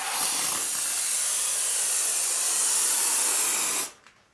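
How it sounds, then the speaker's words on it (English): An aerosol can of spray foam insulation sprays in one continuous, close, breathy hiss for nearly four seconds, then cuts off abruptly into quiet. "I'm just spraying a few just to get rid of the can"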